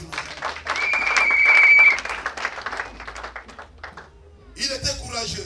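A church congregation breaks into applause at a pastor's call to praise the Lord, a swelling patter of clapping under a raised voice that fades, then returns more faintly with voices.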